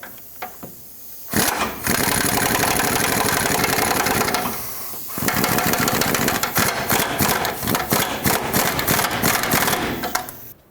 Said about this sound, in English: I just made it nice and tight with my air gun